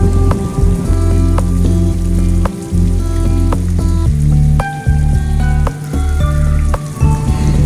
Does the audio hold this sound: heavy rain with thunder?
yes